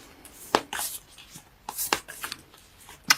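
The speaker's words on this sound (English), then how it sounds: "let me pull 1 card from Whispers of Love" Tarot cards shuffled by hand in a few soft, papery bursts, with a sharper flick near the start and another at the end as a single card is pulled; close and quiet, no talking.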